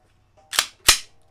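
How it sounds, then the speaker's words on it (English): Glock 17 Gen5 MOS pistol handled as its magazine is dropped out, two sharp metallic clacks about a third of a second apart, close and loud with no talk. "Go ahead and drop that mag out."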